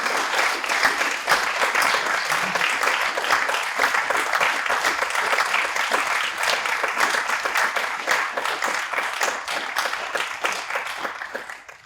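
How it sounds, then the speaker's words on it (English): Audience at a philosophy book prize ceremony breaks into sustained applause for a panel, brisk dense clapping that holds steady for about ten seconds before tapering off at the end. "Let's give them all a round of applause."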